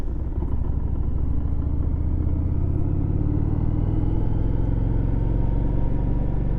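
A Harley-Davidson Street 500 motorcycle rides along a road, its engine giving a steady, close, low rumbling drone that holds for the whole stretch with no talking.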